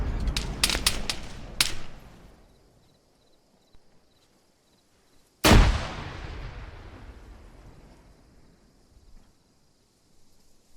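Gunfire and a grenade in the military game Arma: a quick volley of sharp shots opens, then after a quiet gap a single heavy blast booms and rumbles away, with a faint shot near the end.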